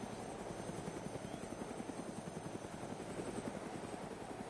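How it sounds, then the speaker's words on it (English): Video-game helicopter with a continuous rotor thump and engine roar, steady and close, heard alone for several seconds. "Don't get out of your heli."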